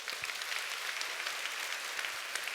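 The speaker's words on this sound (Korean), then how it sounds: "우리 박수 한번 쳐줄까요?" A seminar audience applauds at a business class, a quiet and distant patter of many hands clapping in an even, continuous stream with small irregular peaks, and no voices on top.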